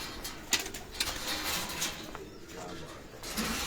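Pigeons cooing softly at a pigeon keeper's loft, intermittent low calls with faint chirps amid background noise and nearby talk.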